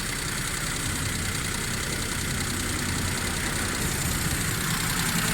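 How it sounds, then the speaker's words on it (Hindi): A car engine idles steadily nearby with a carburetor fuel problem, a continuous rough mechanical drone with faint knocking that holds at an even level from start to finish, with no voices. "गाड़ी की आवाज़ थोड़ी ज़्यादा है, साउंड भी थोड़ा ज़्यादा है"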